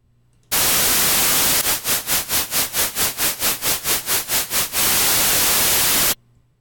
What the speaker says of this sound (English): This is Tremolator from Sound Toys, just has a slightly different sound.